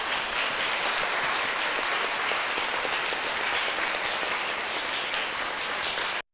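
Sustained, dense applause from an audience at the close of a four-day Buddhist dharma assembly at a temple, steady and even for about six seconds before cutting off abruptly.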